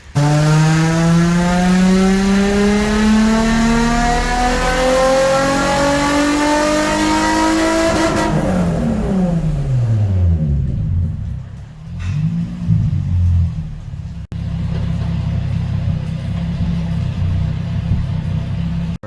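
A Nissan G35 engine revs high and holds after a fresh tune, then drops sharply and settles into a rough, loud idle with a brief blip, heard up close with no talking.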